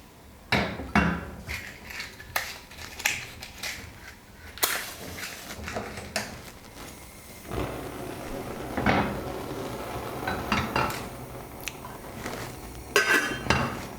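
A pot of quinoa and water set down on a stovetop burner in a home kitchen, with several sharp clattering knocks and scrapes of metal cookware, some louder impacts near the start and end, and no talk.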